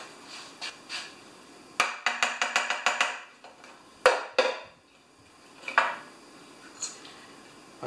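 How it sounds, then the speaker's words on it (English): Sharp metallic taps from a small brass hammer on a non-running lawn mower come in quick bursts, a rapid run of about eight strikes and then scattered single knocks, close and clear. "I'm going to use my little brass hammer."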